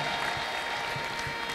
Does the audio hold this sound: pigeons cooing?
no